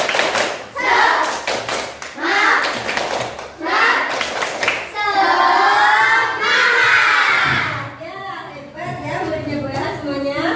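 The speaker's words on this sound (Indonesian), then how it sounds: "Untuk lebih semangat kita tepuk semangat dulu ya." A class of children does a rhythmic 'tepuk semangat' spirit clapping routine, quick patterned claps mixed with children's shouted chanting and a teacher's voice, loud and close, ending in a sustained group shout.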